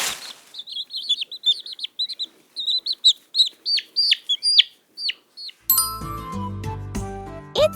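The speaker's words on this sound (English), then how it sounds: "It's a chick." A chick cheeps on a farm in a rapid series of high, thin, peeping chirps that sound close and bright. The cheeping is followed by a short burst of cheerful music.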